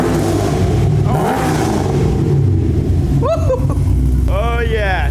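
Camaro V8 with a newly installed aftermarket exhaust and choppy cam, revving loudly close by in a steady low rumble with rising and falling pitch sweeps near the end, while people talk over it.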